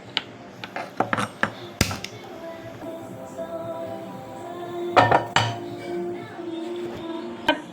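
A kadai pan being picked up and set down, giving close metallic clanks, clinks and scrapes in irregular bursts, busiest at the start and again around the middle, with quieter stretches between and no talking.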